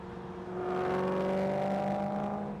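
A V8 car engine revs up and holds a loud, steady droning roar, close by, with a rising whine layered over the rumble.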